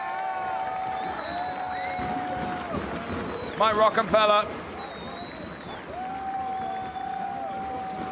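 A large crowd cheers and applauds below the podium at the DTM season final at Hockenheim, a steady roar of applause and cheering with a brief louder burst midway, heard beneath continuous commentator speech.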